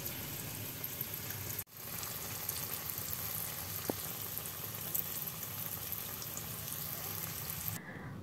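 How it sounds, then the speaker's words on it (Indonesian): Banana and Oreo spring rolls deep-frying in hot oil, a steady soft bubbling hiss that runs evenly throughout with a brief drop near the start and no talking. "saya goreng pisang ya, yang isinya pisang Oreo"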